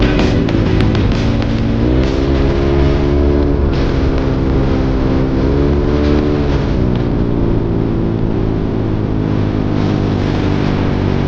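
A rebuilt Yamaha Aerox scooter rides along a road, its engine holding a steady, close drone that rises and falls in pitch with throttle changes over constant wind rush.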